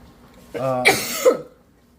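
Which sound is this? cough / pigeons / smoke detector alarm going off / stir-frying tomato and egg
cough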